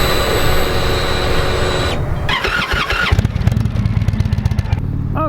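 An Indian Roadmaster motorcycle fires up with a loud whirring start, then settles into a throbbing idle with rhythmic exhaust pulses, close to the microphone and without talk.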